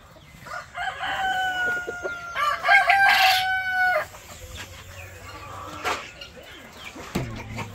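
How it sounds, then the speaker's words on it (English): Chickens on a homestead crow and cluck, with one rooster's loud, drawn-out cock-a-doodle-doo near the middle and scattered clucks and farmyard bird calls around it, fairly close. "That's a whole lot of chickens, man."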